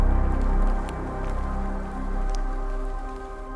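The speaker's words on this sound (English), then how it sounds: "The rain isn't as incessant," Light, steady rain falls in a cold, windy monsoon forest in the Western Ghats near Agumbe, a soft continuous patter with scattered drops and a low wind rumble, no voices.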